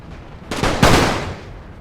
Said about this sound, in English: enemy fire is now coming on the light troops. Very close range fire.